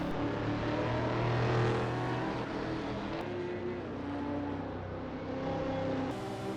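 Engines of 1960s Italian sports cars, including a Porsche 910, racing at Road Atlanta in Assetto Corsa, form a steady, loud, sustained drone that shifts in pitch as they run, with no talking.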